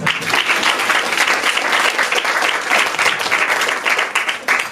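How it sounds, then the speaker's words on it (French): Audience applause at an open-mic night in a comedy club, a dense, sustained wash of clapping from a crowd, loud and steady throughout. "on peut les applaudir s'il vous plaît"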